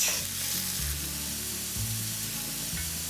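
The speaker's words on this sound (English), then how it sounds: "I'll soften up 1 chopped yellow onion. It's sizzling already." Chopped yellow onion sizzling in a hot skillet, a steady close crackle and hiss with occasional stirring scrapes.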